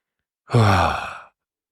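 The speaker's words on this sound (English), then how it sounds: "Let's take one more deep breath together." A single deep breath in and out during a guided meditation, one slow, close, audible sigh-like exhale lasting under a second, alone in otherwise silent surroundings.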